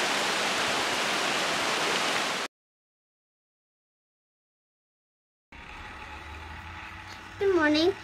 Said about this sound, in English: Tennessee thunderstorm.